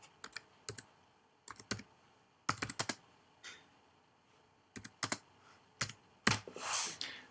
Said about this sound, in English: And I will type in my headline.